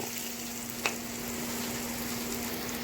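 A steady, gentle sizzle of garlic, ginger and onion frying in a pan, continuous and close, with one brief clink partway through and a faint hum beneath.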